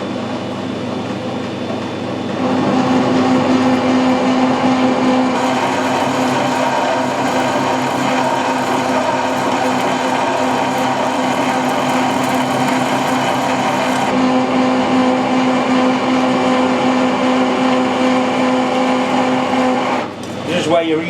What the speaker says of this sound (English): I'm still learning with a lathe.